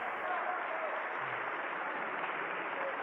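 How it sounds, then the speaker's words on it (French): Applause from a TV studio audience at a 1993 French video game night broadcast, a dense, continuous clapping that holds steadily through the whole stretch with no voices on top. "On peut l'applaudir"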